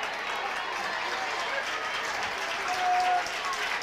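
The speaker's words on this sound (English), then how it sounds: "Nice applause for Brandon Duncan with the hustle there." Crowd applause in a gym during a 2002 Uniontown vs Trinity basketball game, a steady wash of clapping and cheering beneath play-by-play commentary, rising briefly near the end.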